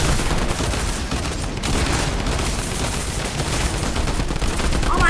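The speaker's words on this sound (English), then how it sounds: "They're two little pistols that do 500 damage for each." Dense pistol gunfire in the video game Fortnite, a loud, continuous barrage of shots packed together with game noise, no clear gaps.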